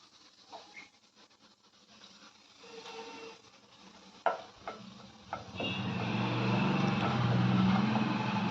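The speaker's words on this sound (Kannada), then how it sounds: "ಪ್ಯಾನ್ ಕಾದಿದೆ, ಸ್ವಲ್ಪ ಬೆಣ್ಣೆ ಹಾಕೋತಾ ಇದ್ದೀನಿ." Butter hitting a preheated pan on a home stove, with a few sharp clicks and clatters followed by a steady rising sizzle that fills the last few seconds, close and moderately loud.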